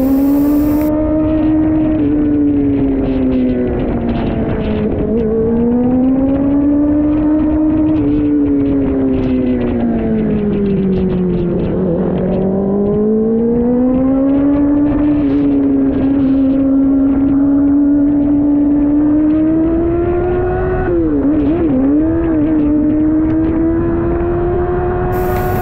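Kawasaki ZX4RR motorcycle engine revving hard while riding along a road near Lingayen, Pangasinan, a loud, continuous high-pitched whine that climbs and falls with the throttle, with wind rushing over the microphone.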